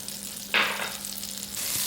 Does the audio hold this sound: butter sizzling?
yes